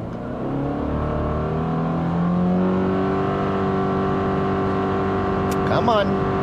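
A 2024 Subaru Impreza RS launches hard from a brake-torque start on a flat road, engine note climbing steadily in a loud, sustained drone heard from inside the cabin, with a person talking briefly near the end.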